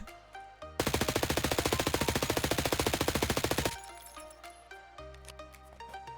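MPX submachine gun firing in Escape From Tarkov, one sustained rapid-fire burst of about three seconds with a fast even rhythm, loud and close, followed by clinking and handling sounds and then quieter tones.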